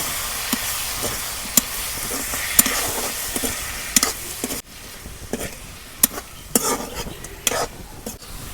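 Shrimp frying in oil in a pan while being stirred with a spoon, a close crackling sizzle broken by repeated sharp scrapes and clinks of metal on the pan.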